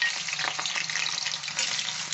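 Small-cut potato pieces fry in a pan over low heat for matar paneer, giving a steady, dense sizzle with faint crackles throughout, close and continuous with no voices.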